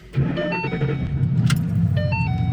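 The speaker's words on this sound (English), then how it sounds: "It's a cold start." A car engine cold-starts with a quick crank and catches almost at once, then settles into a loud, high, steady idle close by, with no talking.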